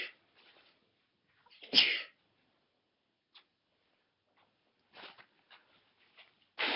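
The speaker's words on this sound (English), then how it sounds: "Why are you sneezing?" A single loud, close sneeze bursts out in a quiet kitchen, followed by faint rustling and a few small clicks and knocks.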